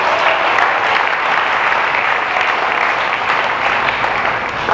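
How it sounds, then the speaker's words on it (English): A church congregation claps together in one dense, steady burst of hand clapping that stays loud and even for a few seconds, with no talking over it. "Let's give the Lord a hand clap."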